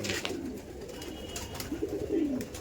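Soft coos of Madrasi pigeons repeat a few times against a steady background hiss, low and murmuring, fairly close.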